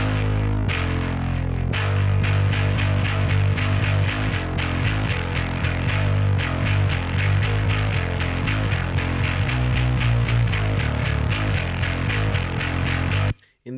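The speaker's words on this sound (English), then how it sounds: "because I have a DI, a bass fuzz, this one straight, sounds amp, and a bass amp" Isolated bass track blending a clean DI signal, a Beautique bass fuzz and a miked bass amp, with gritty, distorted tone. Loud, steady rhythmic notes play continuously for about thirteen seconds, alone with no voices, then stop abruptly.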